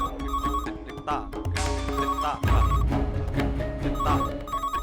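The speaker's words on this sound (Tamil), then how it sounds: "இந்த டைம்ல யார் கால் பண்றது?" A telephone rings with an incoming call, its repeated electronic tones layered over dramatic background music in a Tamil television serial scene.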